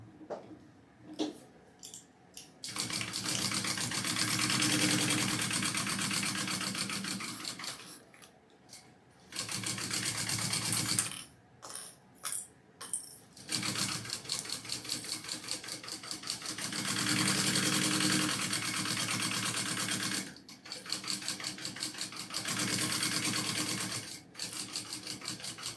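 Domestic sewing machine basting fabric pieces for a medical travel bag, running in several long bursts of steady mechanical whirring with brief pauses between runs, close and fairly loud.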